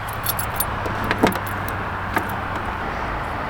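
Car keys jangle in several short, light bursts over a steady low engine-like hum while the door locks of a 1990 Renault 19 are tried, with one louder metallic clink near the middle.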